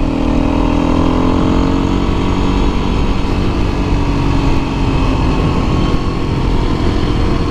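A single-cylinder four-stroke motorcycle without a slipper clutch decelerates on a downshift, its loud, close engine note dropping steadily over a constant rush of wind and road noise.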